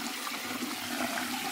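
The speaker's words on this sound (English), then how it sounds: "We'll go ahead and get this water in here." Water poured into a container while mixing a banana brew for plants, a steady splashing rush that holds at an even level from start to finish with no talk.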